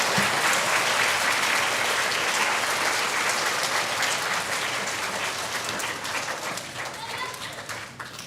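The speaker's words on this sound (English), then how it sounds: "Let's give the first and second grade friends a round of applause." A school audience applauds first and second grade students at a quarter-end recognition assembly, a full round of clapping that stays strong and slowly fades toward the end, with some voices mixed in.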